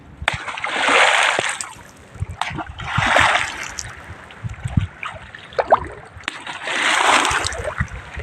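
A fisherman beats the sea surface to drive fish toward his net, producing three broad rushing splashes roughly two seconds apart, with smaller water knocks and drips between them, near and fairly loud.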